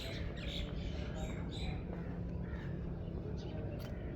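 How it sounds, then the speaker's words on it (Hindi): Faint birds chirping and squawking in the distance over a steady outdoor background hiss, early morning around a home. "हर तरफ परिंदों की चहचहाहट है दोस्तों, आप सुन रहे हैं।"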